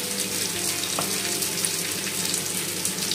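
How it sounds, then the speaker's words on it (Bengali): A fig and potato curry finished with garam masala and ghee is stirred in a pan, giving a soft continuous sizzle with faint scraping close by. "জাস্ট এবার একটু নাড়িয়ে দেবো।"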